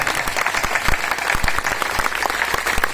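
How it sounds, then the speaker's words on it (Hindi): An audience at a Bhagavat gathering in a cow shelter applauds, steady rapid clapping from a crowd at close range for a few seconds. "तो तालियां कितनी की बनती है हाथ खड़ी करके"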